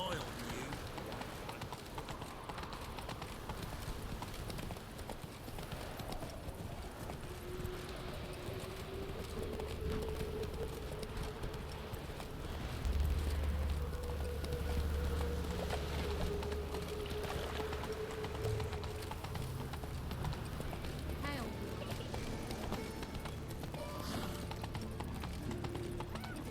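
Hooves of the horse Roach clip-clop steadily at a gallop in The Witcher 3, a continuous rhythmic patter mixed with game music and ambience, with a voice talking over it.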